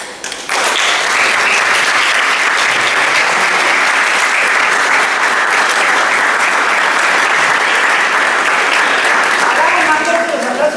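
An audience applauds a prize announcement at the final of a 2022 national environmental arbitration competition. Loud, continuous clapping starts suddenly and fills the hall, with a voice faintly audible near the end.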